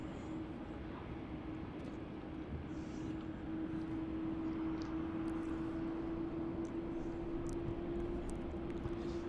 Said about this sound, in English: Jetstar still making its way over to Terminal 2.